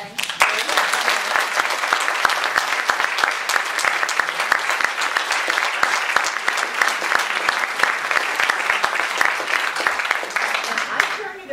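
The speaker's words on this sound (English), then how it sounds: "I would like a round of applause and thanks." An audience at a League of Women Voters election forum applauds continuously, with dense clapping that holds steady for about eleven seconds before tapering off at the end.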